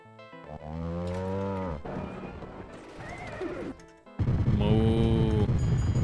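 A cow moos long and low from a VR pinball table, followed by a horse's whinny and other table sound effects, ending with a louder burst of mechanical pinball clatter under another moo.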